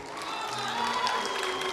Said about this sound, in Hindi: एक बार अपने खुद के लिए तालियां बजा दीजिए।